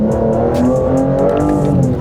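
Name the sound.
Aston Martin Vanquish V12 engine revving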